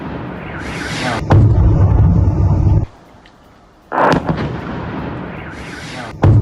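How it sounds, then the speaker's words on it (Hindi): A Russian surface-to-air missile launch: loud, close, broadband roaring blasts in several bursts, broken by a brief quieter gap. "रूस ने दागी सरफेस टू एयर मिसाइल"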